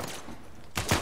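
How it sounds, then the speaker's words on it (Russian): Sniper gunfire in the video game Uncharted 4: two loud, close shots land near the end, after a stretch of quieter background noise. "Черт, Сэм, снайпер"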